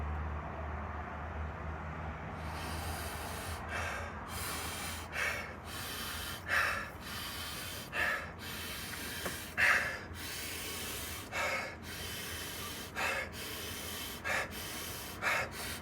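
Repeated sharp nasal inhalations of a sheetkari breathing exercise, drawn in without exhaling, about a dozen close, loud breaths in an uneven rhythm after a quiet start.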